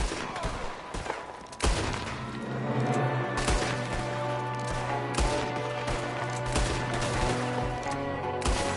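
Gunfire from an enemy shooting out of a window in Red Dead Redemption 2, sharp separate shots and volleys spread across the scene over a steady background drone, with occasional voices beneath.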